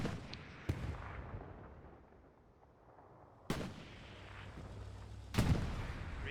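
Three heavy, booming tank shell blasts in the WWII shooter Hell Let Loose, one early, one mid-clip and one near the end, each with a rumbling tail over low battlefield ambience, with no voices.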